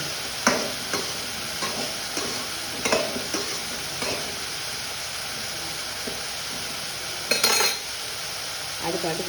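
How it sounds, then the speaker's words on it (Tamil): Okra pieces sautéing in a kadai for vendakkai sambar, a soft steady sizzle broken by occasional scraping stirs and clinks of a utensil against the pan, with a brief louder burst of frying near the end. "அதில் போட்டு வதக்க போகிறேன்."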